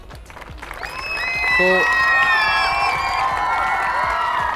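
A school audience applauds and cheers after a children's dance, the clapping swelling into a loud, sustained wash over whoops and shouts from kids, with a voice speaking at the start.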